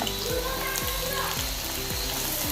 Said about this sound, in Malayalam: മൂന്ന് പച്ചമുളക് അരിഞ്ഞത് ചെറുതായിട്ട് അതും കൂടി എണ്ണയിലിട്ട് കൊടുക്കുക